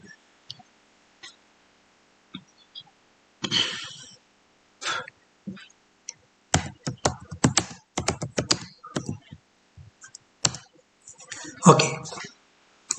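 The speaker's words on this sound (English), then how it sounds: "So I have typed two lines. I'm pressing Ctrl D." Someone types on a computer keyboard in a quiet room, giving scattered single clicks and then dense bursts of keystrokes close up, with a brief throat sound in between.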